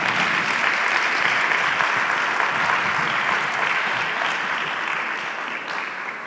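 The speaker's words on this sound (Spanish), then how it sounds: "quiero que la iglesia les dé un aplauso porque son obedientes" A church congregation breaks into sustained, dense applause that fills the room evenly, loud and continuous throughout before easing slightly at the end.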